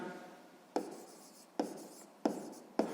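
Pen or pencil writing by hand on paper during a sixth-grade maths exercise, giving four short scratchy strokes at regular intervals, close and quiet, with no talking.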